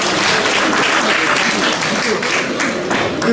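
A hall audience at a Gyeongsangnam-do self-governance association president's inauguration claps in a steady, full round of applause for a few seconds, with a voice faintly present beneath.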